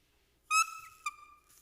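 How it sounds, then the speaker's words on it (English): An oboe double reed blown on its own, without the instrument, gives two short, bright, piercing squeaks close by, the first longer and wavering, the second a quick chirp. "We blow air through the two pieces of wood and it makes a squeak sound like this."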